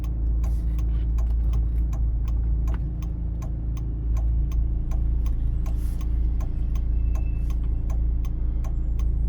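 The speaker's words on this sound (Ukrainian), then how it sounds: "Вмикаємо правий покажчик повороту і повертаємо праворуч." A car's right turn signal clicks in a steady, even rhythm close inside the cabin during a city driving exam route in Cherkasy, over a constant low engine hum.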